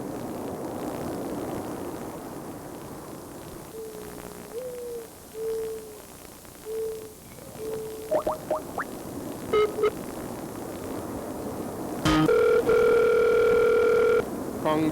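A telephone call ringing out over a line: soft warbling ring tones repeat several times through a quiet hiss, then a louder steady tone and a three-note chime announcing a voicemail greeting, with no talking.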